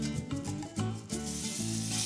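Grapeseed oil in a preheated pan gives a close, uneven sizzle with a few soft bumps and scrapes, rising into a fuller hiss toward the end.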